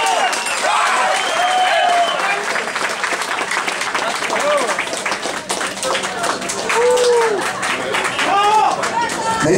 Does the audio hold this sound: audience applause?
yes